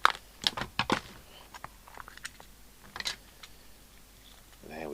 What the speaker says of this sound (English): And these screws are easy to take out.